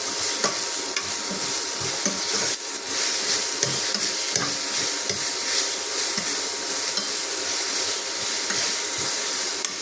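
Sliced onions salted and frying in a pan for a quick curry, stirred until brown: a continuous close sizzle and hiss with repeated scraping strokes of the spoon, loud and steady, with no voices.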